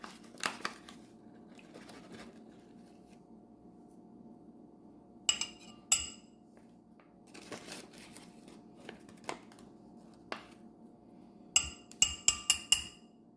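Metal teaspoons clink faintly against containers while Go-Ferm yeast nutrient is measured out, with scattered light taps and a quick burst of clinks near the end over a quiet background.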